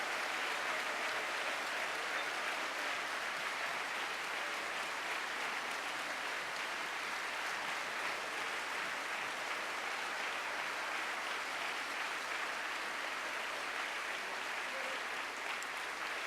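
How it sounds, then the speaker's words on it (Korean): Sustained applause from a large crowd fills the room, steady and even from start to finish with no voices standing out. "한번 일어나서 한번 박수로 우리 감사의 표시를 좀 했으면 좋겠습니다"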